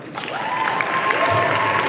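Audience clapping at a Model United Nations closing ceremony, a brief burst of many hands at moderate loudness, overlapped by a speaking voice.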